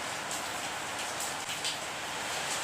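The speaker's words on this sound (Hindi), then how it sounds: "और जब बाहर से आवाज़ आ रही है वो आती रहेगी क्योंकि बारिश का है" Rain falls outside, a steady, dense broadband patter with scattered drops. It is heard from indoors as continuous background noise without any talk.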